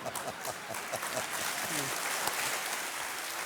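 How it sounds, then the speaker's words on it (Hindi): Studio audience applause on the quiz show Kaun Banega Crorepati season 7: a steady wash of many hands clapping together, sustained and fairly even in level across the moment, with no talking over it. "एक बार फिर बहुत बहुत तालियों के साथ इनका हम अभिनंदन करते हैं"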